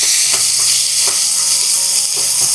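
Chopped large onion added to hot coconut oil with fennel seeds, sizzling steadily with a dense hiss and a few soft clicks of stirring, close and continuous with no talk.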